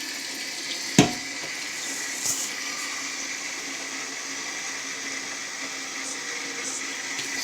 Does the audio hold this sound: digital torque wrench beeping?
no